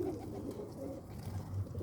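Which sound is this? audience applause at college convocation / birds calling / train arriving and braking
birds calling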